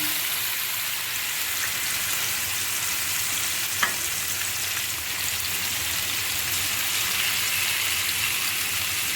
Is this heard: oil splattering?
yes